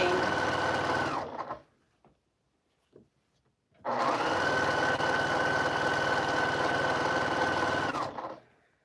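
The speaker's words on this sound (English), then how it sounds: "It's just nice, calming, sewing." A sewing machine stitching a quilt runs in two steady, close whirring stretches, a short one and then a longer one, separated by a quiet pause with a few faint clicks.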